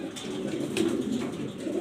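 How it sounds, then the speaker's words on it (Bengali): Satin pigeons cooing steadily in a low, continuous rolling drone, close and fairly loud, with a faint higher chirp partway through. "ঝর্ণা শার্টিং কবুতর"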